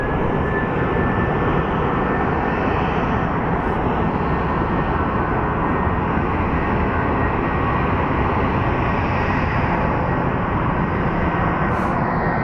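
Steady, loud jet engine roar from airliners taxiing and pushing back at Phoenix Sky Harbor airport, including an Airbus A320neo, a continuous broadband rumble across the whole stretch with no talk.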